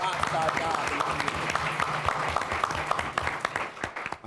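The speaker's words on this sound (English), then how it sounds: "I actually want to give her a hand clap" Audience applause at a civic government forum, a dense, steady patter of clapping sustained throughout, fairly loud and close, with a low voice murmuring underneath.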